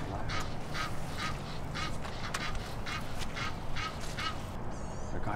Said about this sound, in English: So we got our first sight of Egyptian geese.